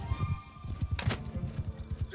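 Horse hooves clip-clopping in Mount and Blade Bannerlord during a siege battle, a steady rapid rhythm of hoof thuds close by with faint game noise and a brief burst of clatter.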